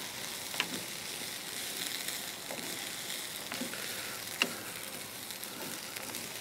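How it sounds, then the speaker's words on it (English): Onions and peppers sizzle steadily on a grill for fajitas, a constant crackling hiss with occasional sharper pops, close and fairly loud with no talking. "all you do is gonna cook the onions with the peppers"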